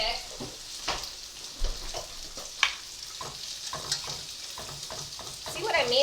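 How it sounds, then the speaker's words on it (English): White gravy whisked in circles in a hot pan gives a steady sizzle, with scraping whisk strokes and occasional clinks against the metal, close and moderately loud throughout. "Whisk in circles."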